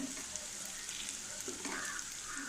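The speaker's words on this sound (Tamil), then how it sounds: "சின்ன வெங்காயம் போட்டு நல்லா வதக்கணும்" Small onions sauté in hot oil for a coconut milk kara kulambu, giving a steady close sizzle with a few stirring scrapes and no talking.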